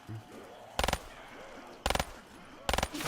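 Three quick bursts of rapid gunfire from the Call of Duty zombies map Zetsubou No Shima in a solo game, each a tight cluster of several loud shots, spaced about a second apart over low game ambience.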